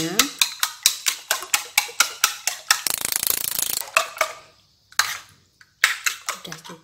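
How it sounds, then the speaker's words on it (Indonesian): Eggs with a little salt are beaten in a bowl, a rapid series of sharp clacking strokes against the bowl, then a brief scraping flurry and a few scattered taps. "Lalu ini akan saya kocok kepas seperti ini ya untuk telurnya."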